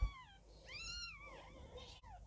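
A newborn Birman kitten from a lilac litter gives a couple of thin, rising high-pitched meows up close, with faint handling noise.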